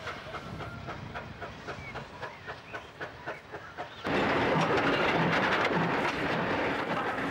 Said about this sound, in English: February 1968 sees 3820 with the paper train crossing the road overbridge at Moss Vale